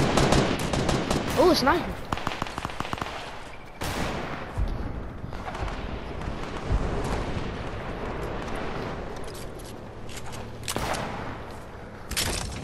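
Rapid, dense minigun fire from Fortnite roars almost continuously for several seconds, loud and close, with brief pauses and bursts. A player talks over the shooting.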